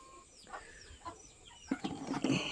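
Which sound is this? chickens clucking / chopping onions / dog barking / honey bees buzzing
chickens clucking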